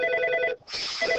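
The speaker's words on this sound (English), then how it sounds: "Let me answer the phone first." A telephone rings in two close electronic bursts with a brief gap between them, loud and near, with no talk.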